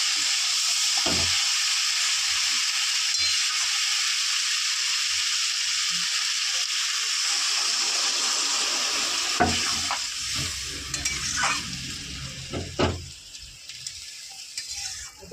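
Water poured into a hot pan of fried vegetables for a vegetarian dish, giving a steady broadband sizzle and hiss that eases midway, then a few soft stirring clinks and bumps near the end, with no talking.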